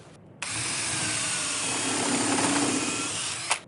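A power drill driving a screw into a wooden mitre shooting board, one continuous close whirring run of about three seconds that cuts off sharply at the end.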